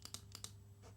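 Four quick, faint mouse clicks in two close pairs, followed by a softer fifth, made while stepping through settings in amp-simulator software, over a quiet steady hum.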